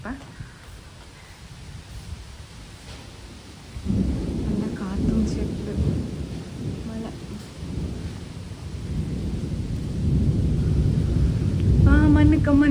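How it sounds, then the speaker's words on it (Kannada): Steady rain hisses after a sudden onset, with a low rumble underneath, while voices talk over it and a brief high whistling appears at the end. "ಮಳೆ ಬಂದು ಉಂಟು ಉಂಡಿ"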